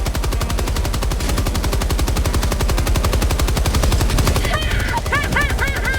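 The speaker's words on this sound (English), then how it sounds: "You have a machine gun and you mow them all down" Sustained automatic machine gun fire in Helldivers 2, rapid evenly spaced shots hammering loud and close without pause, with faint electronic game tones chiming near the end.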